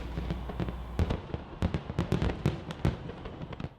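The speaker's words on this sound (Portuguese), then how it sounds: "o céu de Copacabana se iluminou com os fogos de artifício da festa de Réveillon" New Year's Eve fireworks burst over Copacabana beach in Rio de Janeiro, a rapid irregular string of loud booms and sharp cracks over a constant rumbling backdrop of more distant explosions.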